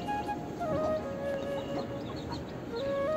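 Silkie hens and their crossbred chicks with local chickens cluck and peep nearby, thin high chick cheeps running over a low murmur of clucking, steady and fairly quiet with no talk.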